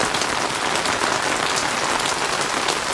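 Heavy mountain rain pours down steadily in Mukteshwar, a dense, continuous hiss of drops striking surfaces, loud and close with no pauses or voices.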